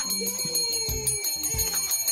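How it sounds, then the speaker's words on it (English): A bell struck repeatedly to announce a contest winner, bright metallic dings ringing close and clear in a quick irregular series over about two seconds with no talk. "You hit the bell."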